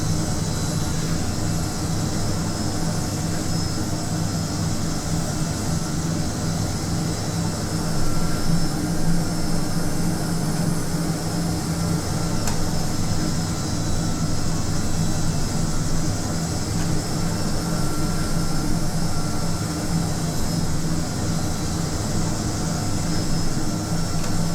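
An aircraft lands in the Prepar3D V4 flight simulator, with a continuous broadband jet engine roar and airflow rumble holding steady and loud throughout.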